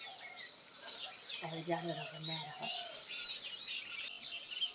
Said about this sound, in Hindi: तो पूरी इस वैली में चिड़ियाओं की ज़बरदस्त चहचहाट है।